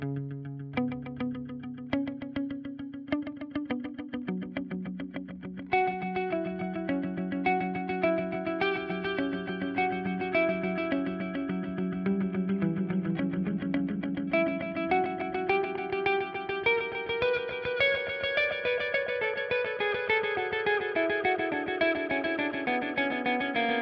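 Electric guitar played through a Strymon DIG delay pedal set to a triplet delay time, sustained notes and chords trailing rhythmic repeats with a shimmering, chorused wash that builds over a long stretch, with no talking.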